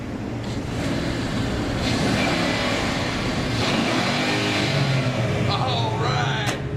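A 2011 Ford Mustang Boss 302 V8 runs on a dyno at the Detroit auto show, a loud continuous engine roar that swells slightly while voices talk underneath.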